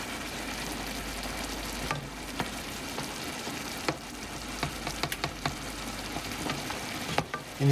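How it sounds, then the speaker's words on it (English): A Mediterranean chicken dish simmers in liquid, bubbling and frying in a steady hiss, while a spoon stirs it with repeated scrapes and taps against the pan, close and without voices. "And while it simmers, we kind of stir the liquid around a little bit."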